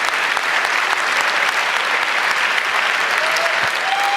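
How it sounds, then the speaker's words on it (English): A large conference audience at the 30c3 hacker congress applauds a speaker: dense, loud, continuous clapping from many hands, a steady roar with no pauses. "Big round of applause, please, for Trevor."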